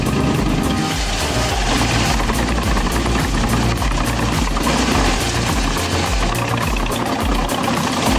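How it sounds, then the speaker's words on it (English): A Jensen JT600 wood chipper with a 50 HP engine chews through fresh 8-inch logs, a loud, continuous engine roar with rough, knocking low-end pulses throughout and no talk. "The Jensen JT600, with a 50 HP engine, devours fresh 8-inch logs like snacks"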